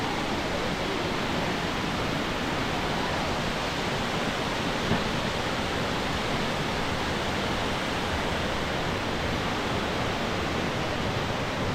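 A waterfall along the Top of the Rock cart trail in Branson fills the air with a continuous, even roar of rushing water, loud and unbroken throughout with no voices.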